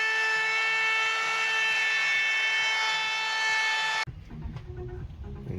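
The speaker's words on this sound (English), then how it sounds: "I'll run the trimmer through a 6 mil round bit there, and that'll just give that a nice edge to finish" A handheld trimmer fitted with a 6 mm round-over bit whines at a high, steady pitch as it rounds the edge of an Ekodeck composite deck board, then cuts out abruptly, leaving low background rumble and faint knocks.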